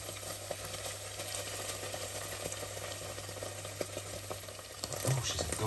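Tomato puree being stirred in a pan for a cupboard tomato soup, a faint steady sizzle with soft scraping stirs and small clicks under low background hum.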